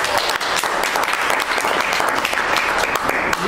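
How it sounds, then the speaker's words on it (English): A live audience at a Toastmasters-style open house with table topics contestants claps steadily after a speaker finishes, a dense, continuous wash of applause from many hands filling the room for the whole stretch. "You may have noticed that after everybody speaks, we clap."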